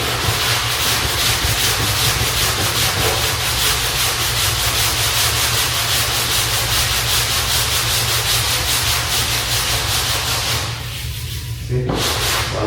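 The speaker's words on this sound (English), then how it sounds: "I'd rather use my hand. When you use your hand, you don't go too deep." Hand sanding a wall in preparation for paint: a steady, loud, close rasping rub with a continuous back-and-forth rhythm that briefly drops off near the end.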